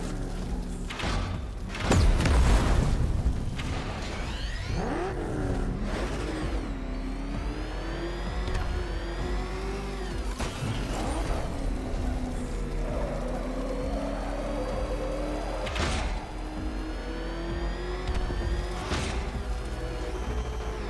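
Batmobile from Batman: Arkham Knight revving and driving, a steady heavy engine drone with rising and falling pitch sweeps, a thump near the start, and continuous game sound throughout.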